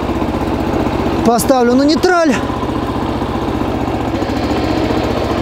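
The engine of a small MTZ Belarus 152N tractor runs at a steady, even chug throughout, and someone talks briefly over it.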